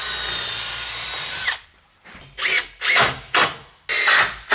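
A power drill drives screws into a wooden door jamb while an internal door frame is fitted: a long whining run, then a pause and several short, sharp bursts of the motor as each screw is seated close by.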